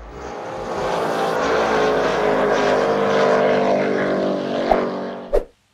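A recreational speedboat fitted with multiple engines roars across the water, a loud steady droning whine that swells and holds, then ends with a couple of sharp knocks and an abrupt cutoff.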